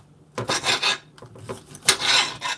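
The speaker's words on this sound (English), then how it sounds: "let me cut her pepper up." A knife cuts a pepper on a glass cutting board, giving scraping, rasping strokes and a few sharp taps at close range, uneven in rhythm, with no speech.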